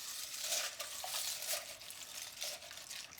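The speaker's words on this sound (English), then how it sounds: "Now we're just going to like stir that around because we basically want it just to soften that cereal" A spoon stirs bran cereal in a bowl while it softens for muffins, making a quiet, continuous wet scraping and swishing with soft rhythmic strokes and no voices.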